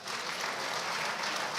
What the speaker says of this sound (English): And a round of applause for our panel.